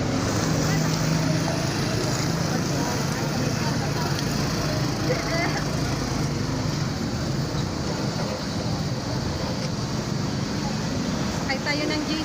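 A JC Liner passenger boat's engine drones steadily and loudly throughout, with wind buffeting the microphone and water rushing alongside, and voices talk now and then over the din.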